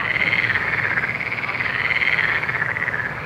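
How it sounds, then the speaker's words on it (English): Frogs croak in a dense, continuous chorus of rapid rasping pulses, fairly loud and steady, with no talk over it. "Frog sounds."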